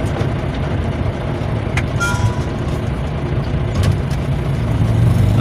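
A Fuso truck's engine pulls off in first gear with the clutch, a steady loud diesel rumble with faint brake hiss and clicks over the top, continuous throughout.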